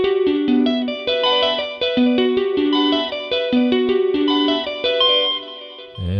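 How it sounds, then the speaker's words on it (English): Electric guitar through a delay effect from an Ableton Live pack: a clean, melodic picked phrase with repeating echoes trailing each note, played close and steady over several seconds. "We've got a delay control."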